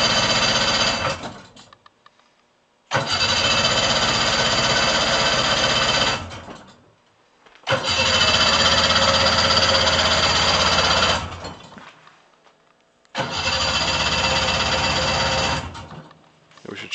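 A 1989 Arctic Cat JAG 340 snowmobile engine makes cold-start attempts: four loud, rough bursts of rattling engine noise, each lasting a few seconds, separated by short silent pauses, with no talking.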